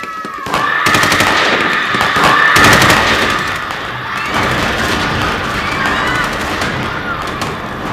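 A ceremonial rifle volley rings out at an Independence Day school assembly, sharp cracks around the start followed by a lingering, crowd-filled ambience with cheering and voices.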